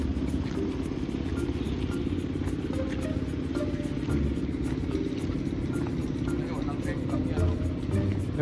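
Motorcycles on a highway in rural Canada, a continuous rumbling engine drone passing steadily at moderate distance, with faint background noise throughout.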